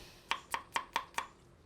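A knife cuts a few little slices of ginger on a board, five crisp, evenly spaced chops in quick succession, close and clear with no talk.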